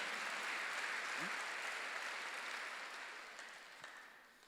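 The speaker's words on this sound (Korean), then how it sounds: "박수를 하세요." A church congregation claps together during a sermon, a wide, even wash of many hands that gradually fades as it ends, heard from a distance. A voice speaks briefly over it.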